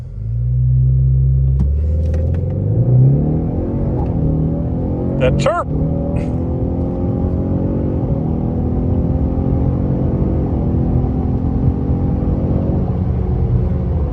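Ford S650 Mustang EcoBoost fitted with an MBRP quad-tip exhaust roars steadily through acceleration, a loud sustained engine drone with a brief tyre chirp partway through, while a person speaks over it.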